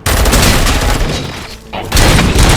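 Loud, dense gunfire bursts in the RoboCop: Rogue City video game, with a rapid volley, a brief lull, then another heavy barrage close up.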